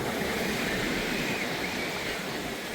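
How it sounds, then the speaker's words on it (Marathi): Sea waves wash onto a busy beach in a continuous, soft, even roar of surf heard from nearby, with no distinct breaks and no talking. "सर्वत्र लाटा चालू"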